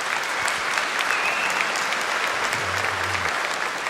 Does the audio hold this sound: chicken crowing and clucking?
no